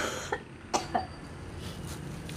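A few quick, soft coughs close by, three short bursts in the first second against a quiet room background.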